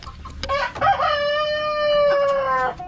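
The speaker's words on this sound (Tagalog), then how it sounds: "ito yung mga manok ko na breeder yan" Rhode Island Red breeder chickens crow loudly and close, a rooster's long drawn-out call rising over scattered clucks from the flock, with no talking.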